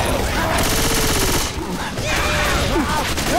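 Rapid gunfire from Left 4 Dead 2 crackles in a sustained fusillade of loud, close shots that briefly thin out midway before resuming, with game voices and chaotic effects mixed in.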